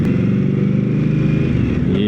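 An Indian Scout Rogue motorcycle fitted with an aftermarket Jekill and Hyde exhaust runs nearby, giving off a loud, steady, pulsing twin-cylinder throb for a couple of seconds.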